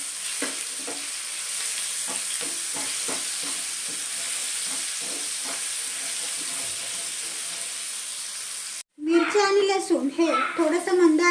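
Coarse garlic-chili paste frying in hot oil and stirred with a spoon, a steady sizzle with soft scrapes, then a sudden break into a louder hiss of fresh frying near the end.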